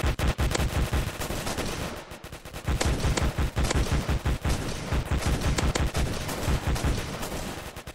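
Rapid, sustained bursts of ray gun fire from Roblox Zombie Attack, loud and close with dense repeating shots and a brief pause near the two-second mark, no talking.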